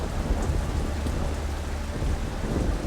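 Heavy tropical monsoon rain driven by strong wind lashes a city in Singapore, a dense, steady roar of downpour with low rumbling gusts filling the whole stretch without a break.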